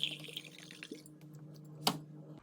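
A drink is poured in a home kitchen before cooking, with faint trickling and dripping of liquid over a low steady hum and one brief louder splash-like burst near the end.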